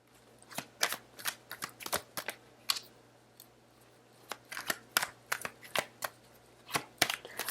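Tarot cards are shuffled and drawn by hand, giving crisp, close, irregular bursts of card flicks and snaps with brief pauses between them.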